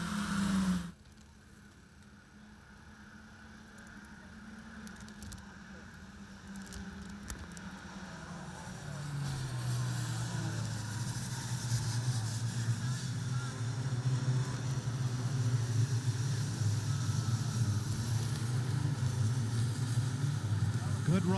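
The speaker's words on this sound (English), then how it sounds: "These Nissan Micra Cup race cars putting out about 109 horsepower." Nissan Micra Cup race cars of about 109 horsepower lap a racetrack in a field running side by side, a steady engine drone rising and thickening after the first second and holding loud to the end, under race commentary.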